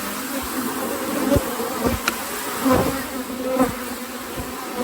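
Honey bees buzz steadily around an opened hive during harvest, a dense, continuous hum with a few louder passes as individual bees fly close.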